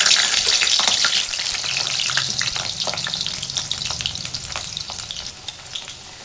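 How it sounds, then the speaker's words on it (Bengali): Potatoes crackle and sizzle loudly in hot mustard oil, the spitting strongest at first then settling into a softer, steady fry. "তেল গরম হয়ে গেছে, আলু ভেজে নিচ্ছি।"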